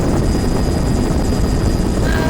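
Helicopter in flight in a video game, a loud, steady, dense rotor and engine roar filling the whole stretch without pause.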